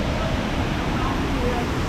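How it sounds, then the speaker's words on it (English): Waterfall in Oslo, Norway, beside a small bridge and water control structures, giving a steady broadband rush of falling water that stays loud and constant throughout. "Waterfall down there too."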